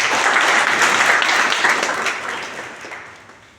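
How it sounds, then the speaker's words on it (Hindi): Loud applause from a gathered audience at a study-group session, dense sustained clapping that gradually fades out over the last second or so. "तो सूर्य जी के लिए जोरदार तालियां हो।"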